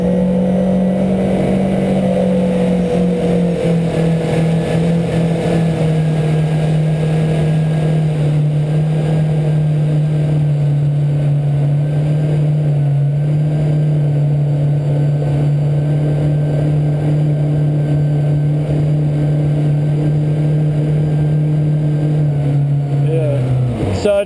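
A jet ski engine held at high RPM of about 4,500 while running on the water, giving a loud, steady, close drone with a strong low hum. Pitch dips slightly early on and again near the end.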